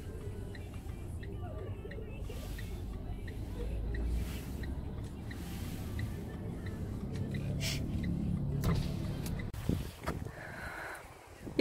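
Riding in a car through a traffic jam near Izmir, Turkey, a low steady cabin rumble runs throughout, with quiet talk and breathing sounds close by and a few brief rustles near the end.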